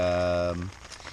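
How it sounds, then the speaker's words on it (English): A loud droning tone cuts off, leaving a soft, steady hiss of rain falling on a surface. "It's raining. It rained off and on all night."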